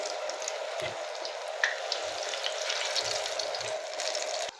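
Vegetable cutlets coated in flour fry in a pan of oil, giving a steady, moderately loud sizzle with faint bubbling and a few soft low bumps, with no voices.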